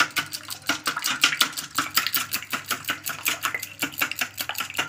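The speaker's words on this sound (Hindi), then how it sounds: "और अब मैं अंडे को अच्छे से फेंट लूँगी" Eggs with a little red chili beaten briskly in a bowl, a fast, even run of close clicking taps as the utensil strikes the sides, continuing without a break and with no speech.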